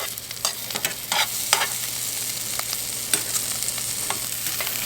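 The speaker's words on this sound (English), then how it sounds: "That stuff's still sizzling." Andouille sausage and cabbage sizzling in a 10-inch carbon steel skillet, a constant hiss broken by several sharp crackles and stirring scrapes, close up.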